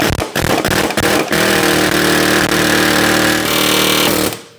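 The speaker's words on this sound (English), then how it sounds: "So we're just gonna air hammer this thing off right here until it pops loose." An air hammer rattles loud and close against a suspension joint on a Mercedes SL63 during engine removal, a rapid continuous pounding in several bursts that stops abruptly at the end.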